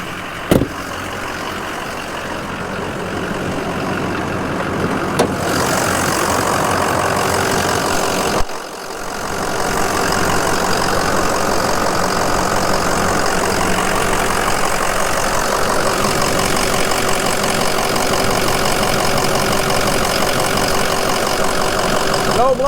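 A 2005 Ford Excursion Eddie Bauer with a 6.0L Powerstroke diesel and 4WD idles loudly and steadily for over twenty seconds, with a clattering diesel rumble, one brief dip, and faint background speech.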